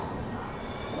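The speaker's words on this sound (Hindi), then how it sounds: "हमारी ट्रेन पहुंच रही है" Double-decker express train pulling into a railway station, a steady loud rumble of rolling wheels and carriages with continuous low-frequency noise throughout, no talk.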